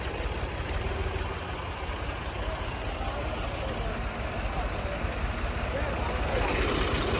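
A New Holland tractor's heavy engine rumbles steadily throughout, loud and close, while pulling a stuck sugarcane trolley, with a village crowd murmuring faintly in the background and a slight swell near the end.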